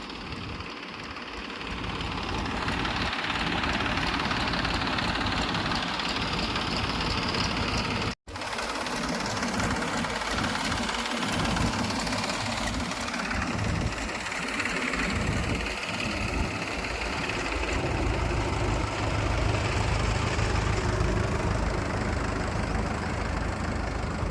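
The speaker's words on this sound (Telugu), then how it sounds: "ఇక్కడ హైకోర్టు దగ్గర అయితే ప్రస్తుతానికి ఈ 3 ట్రాక్టర్ల ఇంజిన్లు అయితే రన్నింగ్లు అయితే ఉన్నాయి." Three tractor engines running continuously to pump water out of a foundation pit at a construction site near the High Court in Amaravati, producing a steady, loud mechanical drone with a low rumbling chug throughout.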